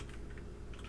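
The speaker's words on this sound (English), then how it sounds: "opening up a web browser and then typing in download jQuery" Rapid typing on a computer keyboard, a close steady patter of key clicks for about a second with a low hum underneath.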